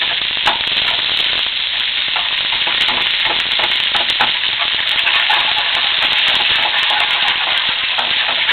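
Beef cooking beside a butter sauce in a pan, sizzling loudly and steadily with a dense crackle and scattered small clinks throughout, no voices.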